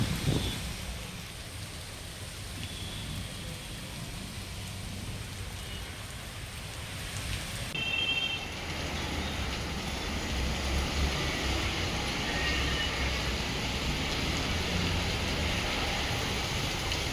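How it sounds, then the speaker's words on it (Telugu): Heavy rain in Hyderabad hisses steadily and evenly throughout, a broad wash of falling water of moderate loudness with no talk, the texture shifting slightly partway through. "హైదరాబాద్ లో పలుచోట్ల భారీ వర్షం కురుస్తోంది"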